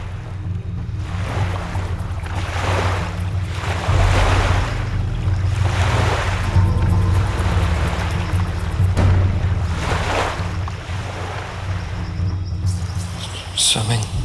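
Ocean waves surge and wash in slow, repeating swells after a crash into the water, loud and close, with gusting wind noise and a brief sharp sound near the end.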